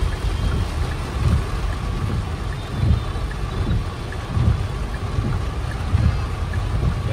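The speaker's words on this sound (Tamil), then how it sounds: "ஃப்ரெண்ட்ஸ் பயங்கரமா மழை பெய்யுது" Heavy rain pours steadily with low rumbles of thunder rolling underneath, a dense, continuous roar close by with no voices.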